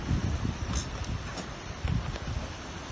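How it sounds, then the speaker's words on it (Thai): Strong early-morning wind buffets a hilltop campsite, a steady rough roar with gusty surges and rustle, close and continuous, with no talk. "ลมจะค่อนข้างแรงนิดนึงนะครับ"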